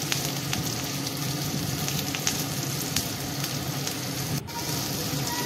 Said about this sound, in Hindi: भृषंग पत्र टिके भाजिकी